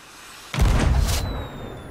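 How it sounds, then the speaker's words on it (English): Fireworks are shot in the pirate video game Sea of Thieves: after a quiet start comes a single loud, sudden boom with a crackling burst that fades into a low rumbling tail. "I just found some fireworks, so I'm just shooting them."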